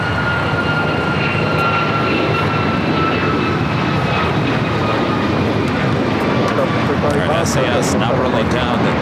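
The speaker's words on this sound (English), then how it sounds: "SAS now rolling down the 24 right." An SAS jet airliner rolling for takeoff on runway 24 right at LAX, a continuous heavy engine roar with a faint rising whine, loud throughout, with a voice talking over it.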